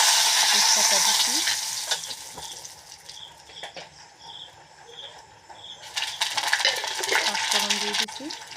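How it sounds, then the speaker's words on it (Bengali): Bay leaves hit hot oil in a kadai for a dal tempering, giving a loud broadband sizzle that eases off midway and flares up again near the end, with scattered clinks of a spoon against the pan. "আর ডাইলে আমি ফোড়ন দেবো, তার জন্য তেল দিয়ে দিচ্ছি কড়াইতে"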